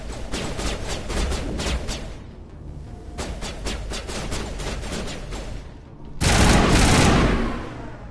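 Sustained automatic gunfire in Mass Effect rattles in rapid bursts with brief pauses, then ends in a louder, denser blast of fire near the end.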